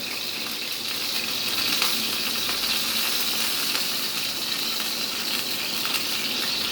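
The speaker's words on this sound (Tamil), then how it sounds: "கடுகு உளுத்தம்பருப்பு போட்டு தாளிக்கிறேன்" Steady, crackling sizzle of mustard seeds and lentils frying in hot oil, a constant hiss with faint popping, close by and without talk.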